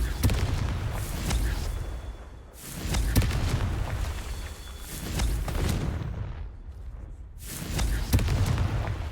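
Fire-spell blasts in the Hogwarts Legacy video game, several deep booming explosions spaced a few seconds apart, each with a rumbling low-end tail over continuous game ambience.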